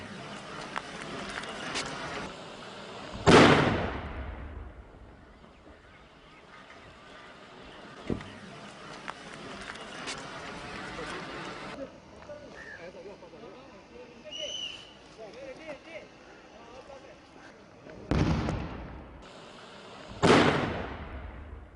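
A few loud explosive booms, the largest near the start and two more toward the end, separated by a quieter stretch of murky background noise.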